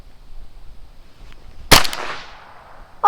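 A single sharp crack from a Ruger 10/22 rifle rings out close and loud, followed by a short decaying echo, after near silence; a brief voice-like sound begins right at the end.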